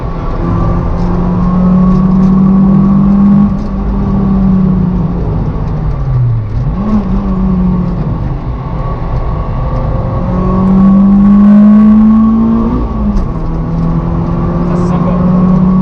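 A 2006 Ford Fiesta ST Mk6 with a 2.0-litre Duratec engine, heard from inside the car as it revs hard under acceleration, its droning note climbing, dropping on a gear change and rising again, loud and close, with people talking over it.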